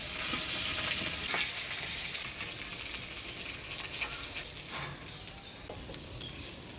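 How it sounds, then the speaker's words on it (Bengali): Fish heads frying in hot oil, browned deep red, give a steady close sizzle with occasional spatters and stirring scrapes, and no voices. "মাছের মুড়াগুলা একদম লাল করে ভেজে নিলাম"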